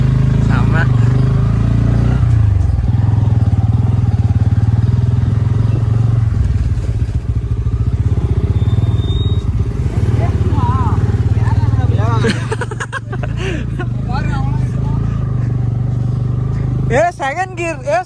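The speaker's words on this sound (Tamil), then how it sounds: "நீ வந்து செகண்ட் கியர்ல போட்டு ஏத்து ரவீந்தர்." A motorcycle climbing a hill road near Yercaud in second gear, a steady loud engine drone throughout with bumps and rattles, and people talking over it toward the end.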